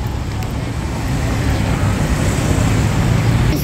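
Blue Mwendokasi BRT bus passing through busy Dar es Salaam street traffic, a steady low engine and road rumble that builds slightly and holds loud and close throughout.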